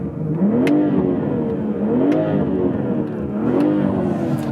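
BMW M340i xDrive engine in Sport Plus revved to the limiter three times in a row, each blip rising in pitch and snapping off, loud and close with no one speaking.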